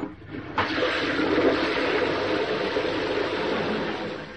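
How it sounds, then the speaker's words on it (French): A toilet flush starts abruptly after a brief pause, then rushes loudly and steadily as the water drains, fading slightly toward the end with no voices over it. "Actionne la chasse d'eau."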